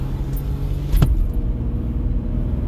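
Car rumbling past nearby, a steady low engine drone with a brief sharp clunk partway through, then continuing to rumble as the high hiss fades away.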